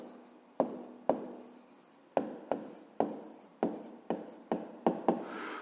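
A hand writes out a math solution, each pen or chalk stroke landing as a sharp, distinct tap in an uneven run of about ten strokes, close and alone without any talk.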